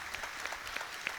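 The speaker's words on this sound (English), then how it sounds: "The audience, Applauding his efforts" Audience at a university powerlifting championship applauds a lifter as he is helped off the platform, a steady, fairly quiet wash of clapping from a distant crowd with a few sharper claps standing out.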